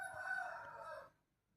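A rooster crows with hens nearby as the birds return to a backyard coop in the evening; one loud, sustained call fills most of the moment, then stops abruptly, leaving near silence.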